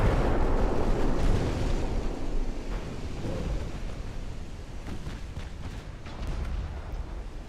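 Torpedo explosions in a naval warship video game: a dense, rumbling barrage of deep booms and bursts, loud and continuous at first, then easing into rolling thuds with scattered sharp cracks.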